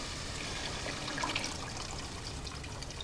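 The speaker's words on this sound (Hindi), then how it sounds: "इसमें डाल लेंगे हम पानी" Water poured into a pot of masoor dal during home cooking, a steady, close trickling splash that runs alone for a few seconds.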